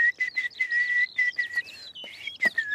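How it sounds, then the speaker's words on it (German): Loud, shrill human whistling in quick bursts, several short sliding notes and one longer held tone, piercing and close, with no other sound around it. "Dann pfeifst du einfach richtig laut."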